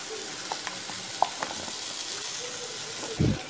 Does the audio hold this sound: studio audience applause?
no